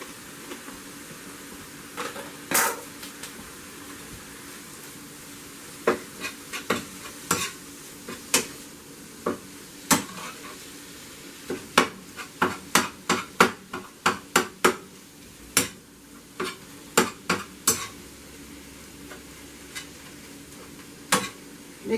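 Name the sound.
stirring and mixing stuffed pepper filling with herbs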